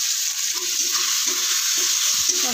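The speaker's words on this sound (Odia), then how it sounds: "ରସୁଣ ଟିକେ ଭାଜି ହେଇଯାଉ" Ginger, garlic and onion fry in oil in a pan with a steady, loud, close hiss, broken by a few soft stirring scrapes and no talk.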